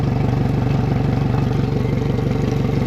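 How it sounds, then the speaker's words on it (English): A Suzuki DF150 four-stroke outboard motor idles out of the water during a 300-hour service, giving a close, loud, steady pulsing throb with an even mechanical rhythm throughout. "Engine sounds good."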